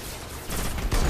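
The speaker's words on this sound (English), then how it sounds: "Pulse Rifle." Pulse rifle firing in Destiny, a short noisy burst of rapid shots that swells loud and close within about a second, with no talk over it.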